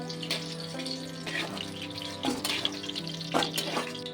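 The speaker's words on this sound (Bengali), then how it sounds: "সেম একই রকমভাবে ভেজে নেব, এপিট ওপিট করে।" Fish roe fritters frying in hot oil, a soft continuous sizzle with occasional louder crackles and stirring clatter close by.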